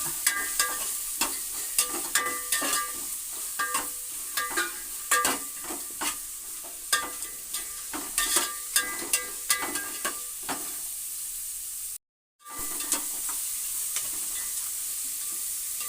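Oil sizzling as a tempering of dry red chilies, onion, chana dal and mustard seeds cooks in the pan, with crackling pops and stirring throughout and a short cut near the end.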